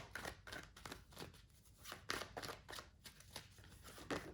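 Tarot cards are shuffled and drawn up close, a quick run of soft papery flicks and slaps in an irregular rhythm, with no one talking.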